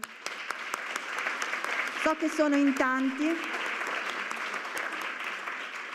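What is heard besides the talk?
audience applause for the speakers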